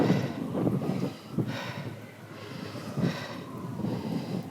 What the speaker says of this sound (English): It's a lot of wind, so we are battling all that wind.